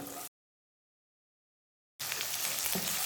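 Bursts of bright sizzling from chopped onions frying in hot oil, interrupted by a stretch of silence, then resuming loudly with stirring noises.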